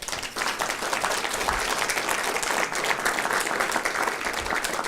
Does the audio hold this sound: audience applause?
yes